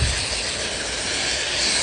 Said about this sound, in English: Now, we spray it off.